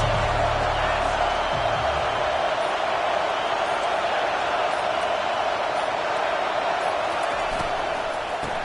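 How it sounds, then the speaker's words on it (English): A college football stadium crowd roars in a steady, dense wash of distant cheering that holds throughout, with a low thump near the start. "They challenge this crowd to bring the energy, and I'd say they're doing that"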